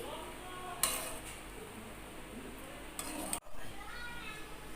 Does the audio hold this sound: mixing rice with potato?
yes